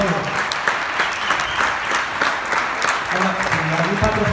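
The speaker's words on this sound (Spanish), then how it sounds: "Un aplauso para el Hernani." Warm applause fills an award ceremony, continuous clapping from the crowd with a voice briefly audible beneath it toward the end.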